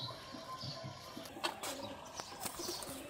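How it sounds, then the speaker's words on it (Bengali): A pair of Ghonobaji pigeons cooing quietly, low soft coos repeating over faint background noise, with a couple of brief rustles or wing flutters in between. "এবার এই এক জোড়া ঘনবাজির কবুতর দেখাচ্ছি আপনাদেরকে"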